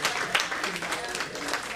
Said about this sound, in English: So we want to give her one more round of applause.